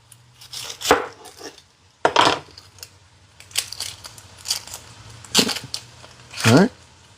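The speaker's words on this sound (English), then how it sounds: "we're cutting up an onion" Knife chopping an onion on a cutting board for a grilled chicken parm dinner: a handful of sharp, separate chops spaced irregularly, up close, with a low steady hum underneath.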